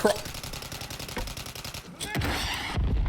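A Striker shotgun firing in Fortnite, with a rapid series of sharp shots through the first two seconds, then heavier blasts and rumbling game noise toward the end, loud and close.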